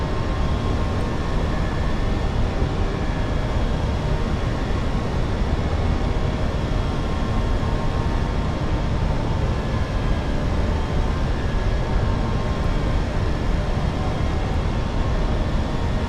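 Steady, loud broadband roar inside a British Airways Airbus cabin climbing out after departure from London Heathrow, a constant engine and airflow rumble with faint tonal hum and no voices.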